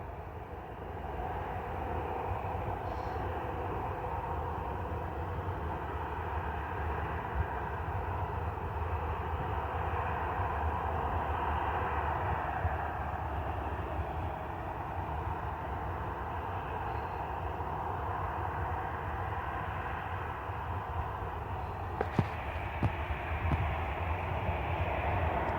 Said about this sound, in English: that police helicopter is about to land at the airport